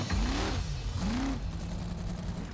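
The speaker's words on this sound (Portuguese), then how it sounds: "Debaixo do capô tem um 498 bloco grande rodando em metanol." A monster truck's 498 big-block engine burning methanol revs hard and close, rising and falling through two strong throttle sweeps before settling into a loud, rumbling run.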